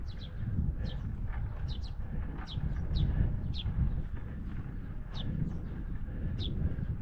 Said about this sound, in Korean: 새소리도 들리고요.